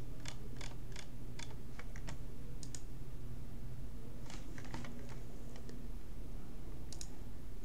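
Computer keyboard typing and mouse clicking during a LaTeX and TeXstudio setup on Windows 11, bursts of crisp close keystrokes and clicks in irregular clusters over a low steady hum, no talking.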